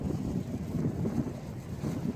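Wind blows outdoors in a quiet spot, a steady low rumbling buffet on the microphone with no other sounds and no talking.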